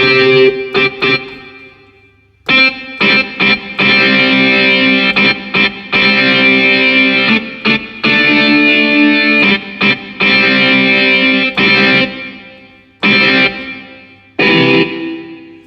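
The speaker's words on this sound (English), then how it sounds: "the distortion, if you put them on the lower sounds, it would sound better." Distorted electric-guitar tone from a Casio CT-S1000V keyboard plays chunky power chords in short bursts with brief gaps, loud and buzzy, no voices.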